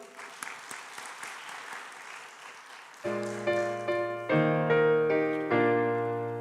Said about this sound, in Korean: 은혜 주신 하나님께 영광의 박수.